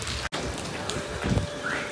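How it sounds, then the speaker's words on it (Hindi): Rain falls during a train journey toward Itanagar, a steady hiss of drops with a brief sharp break near the start and a few louder patters, no voices. "अभी jump कर बारिश हो रहा है ना."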